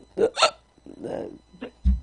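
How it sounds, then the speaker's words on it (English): A man hiccups several times in quick, sharp catches while talking, the short bursts mixed in with his speech at close range. "I have a hiccup."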